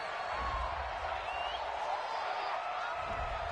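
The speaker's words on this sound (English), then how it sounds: "Well, the crowd doesn't like that." Stadium crowd in a PS4 football video game reacting to a penalty, a steady loud roar of disapproval lasting throughout with no break.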